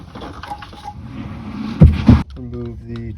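A timing belt pops off a Toyota Corolla 4A-F engine (1988-1992), giving two heavy, close thuds a moment apart, followed by someone speaking.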